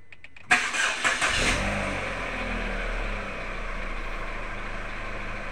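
A Chevrolet Captiva petrol engine with an overheating problem cranks with a few quick starter pulses, catches with a roar, then settles into a steady, slightly uneven idle.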